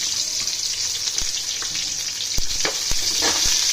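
Green chilies, onion, shahi jeera and cloves frying in a pan for biryani, giving a continuous bright sizzle with scattered sharp crackles and spatula scrapes, close and loud, no voices.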